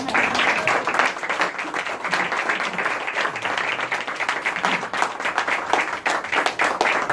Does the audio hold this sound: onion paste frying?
no